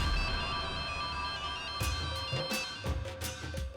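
A mobile phone ringtone plays a steady electronic tone pattern with sharper rhythmic accents joining partway through, fairly loud and continuous, with no talk.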